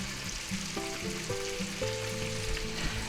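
Pork and vegetable stir fry sizzling in a pan while being stirred, a steady close hiss of frying with soft scraping and clinks from the utensil, no talking.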